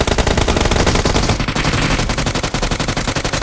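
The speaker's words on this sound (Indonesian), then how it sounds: "Kok kita saling nembak nih jadinya?" Rapid automatic gunfire in PUBG Mobile, a loud, dense burst of shots fired in quick succession with no pauses, close and dominating throughout.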